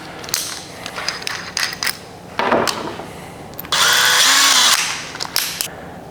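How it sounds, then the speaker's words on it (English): A power drill with a 7/64 inch bit drills small holes, whirring in a series of short bursts, then one longer high-pitched whining run, with brief quiet gaps between. "you'll also need a 7/64 inch drill bit to drill those holes."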